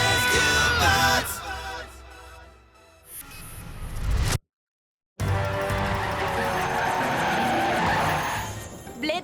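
Cartoon car tires skid and squeal loudly in an animated Transformers Rescue Bots scene, mixed with engine noise and music, cutting to a brief silence before the action resumes.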